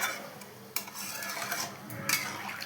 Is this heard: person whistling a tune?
no